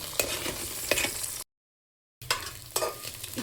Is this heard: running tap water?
no